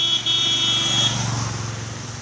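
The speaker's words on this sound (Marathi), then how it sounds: "आपल्या मित्रांनी गाडी काढली" A car pulls away on a monsoon ghat road, its steady engine hum close and continuous, briefly overlaid by a horn-like tone before easing slightly.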